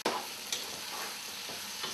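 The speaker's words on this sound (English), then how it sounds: "sauteing together in the beautiful extra virgin olive oil" Peppers and tomatoes sauteing in extra virgin olive oil, a close, steady sizzle and hiss with brief scrapes of stirring.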